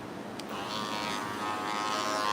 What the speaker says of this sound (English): We're using today my copper cordless masters.